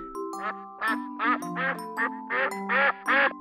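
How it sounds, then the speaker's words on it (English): A farm duck gives a loud, clear series of about eight nasal quacks in quick succession. Each quack is close and distinct, and nothing else is heard. "There goes a duck."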